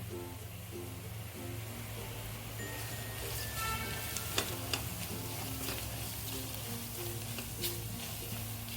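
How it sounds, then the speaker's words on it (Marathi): Spice masala for kat amti is sautéed over medium gas in a pan and stirred continuously, giving a close, steady sizzle and frying hiss broken by a few sharp spoon-against-pan knocks, with no speech. "मीडियम गॅसवर आहे सर्व मसाले परतून घ्यायचे आपल्याला हलवत राहायचे"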